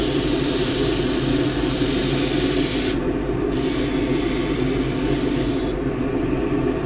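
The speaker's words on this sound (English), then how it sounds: "I've got a 40 grit disc and some dust extraction" A 40 grit sanding disc shapes a juniper wood spatula while dust extraction runs, giving a loud, steady abrasive hiss that drops out briefly twice as the wood is lifted away.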